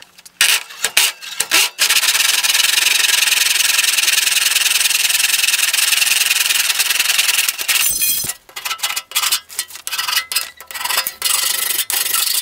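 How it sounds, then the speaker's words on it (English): A hand saw cuts aluminum in a miter box with a harsh, raspy rubbing. A few quick strokes come first, then a long continuous stretch of sawing, then more short uneven strokes, all close and fairly loud with no talk. "Aluminum is fairly easy to cut. You can use a saw and miter box like this."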